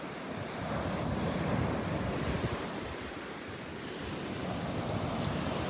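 Ocean surf rolls onto a beach in a strong rip current, a dense continuous roar of breaking waves with swelling surges, mixed with gusty wind buffeting the microphone.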